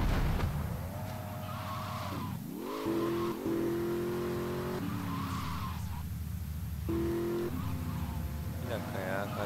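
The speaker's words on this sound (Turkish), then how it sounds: "O araba bir anda kendinden geçti" A car engine revs and wails in the video game GTA Vice City, with rising and falling pitch and tire squeals as the vehicle slides, while someone talks over the game sounds.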